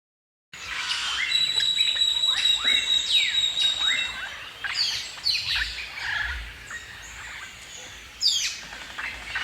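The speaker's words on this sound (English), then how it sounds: "eagle." Wild bird calls, a series of sharp rising and falling shrieks and chirps close by, layered over steady outdoor background noise, with a brief louder burst near the end.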